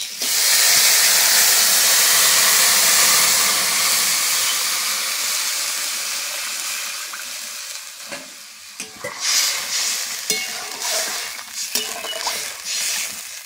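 Water hits a hot pan of fried raw mango pieces, bursting into a loud hissing rush of steam that slowly fades, then gives way to bubbling and scattered stirring knocks.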